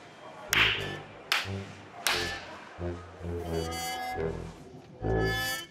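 Several sharp claps ring out in a quiet supermarket setting, a few separate bursts spaced apart, loud and close, with no voices over them.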